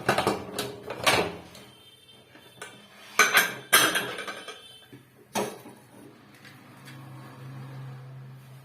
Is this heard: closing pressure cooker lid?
yes